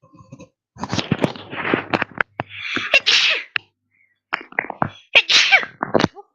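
A person sneezes close by: a sharp, loud burst set among quieter shuffling and handling noises in a room.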